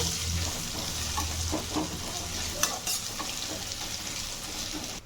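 Ginger garlic paste and spice powder frying in a pan for a fish curry, a steady close sizzle with occasional stirring scrapes throughout, no talking.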